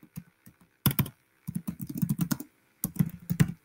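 A computer keyboard clacks in quick, uneven bursts of keystrokes with short pauses between, close and clear, as instructions are typed with no voices present.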